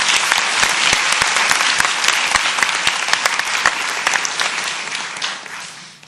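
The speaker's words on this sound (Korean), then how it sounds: "이 자리를 빌어서 다시 한번 뜨거운 박수를 보내고 싶습니다" Large audience applauding loudly and steadily at an event honoring Team KAIST's robotics research, a dense continuous wash of clapping that tapers off toward the end.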